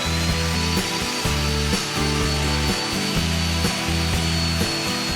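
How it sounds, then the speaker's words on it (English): A Ryobi sliding table saw cuts through wood in short repeated passes, its steady motor hum broken by rhythmic blade bites and brief pauses, loud and close with no talking. "The level of professionalism is taken a step further with the introduction for Ryobi sliding table saw. The cuts are clean and precise."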